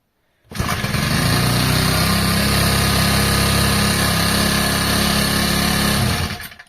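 A Procraft T5600/S petrol brush cutter starts up and idles steadily with a loud, buzzing high-pitched engine note for about six seconds, then cuts off abruptly.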